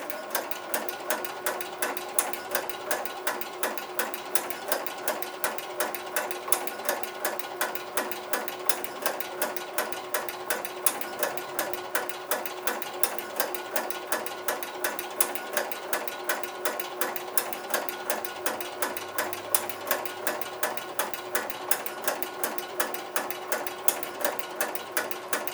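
Sewing machine fitted with a ruffler foot runs steadily, its fast, even mechanical clatter and rhythmic ticking of the pleating mechanism continuing alone throughout at a moderate level.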